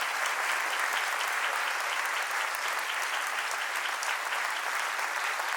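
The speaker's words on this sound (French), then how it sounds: "Un tonnerre d'applaudissements pour le lieutenant-colonel Lardeux, s'il vous plaît." A concert audience at a French Foreign Legion band performance in Nîmes applauds the conductor, a broad, sustained wash of many hands clapping at even volume, with no speech.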